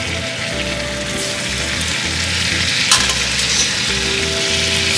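Spaghetti noodles hit a hot lemon butter shrimp pan and sizzle loudly and continuously, a close, dense crackling fry with a brief clatter partway through and no talking.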